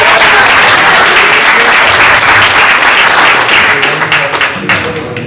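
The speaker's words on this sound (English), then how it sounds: "clap it up for my brother" Audience at a ConTextos publication event applauding for Lil Dave, a dense burst of clapping that starts loud and tapers slightly toward the end, with no clear speech over it.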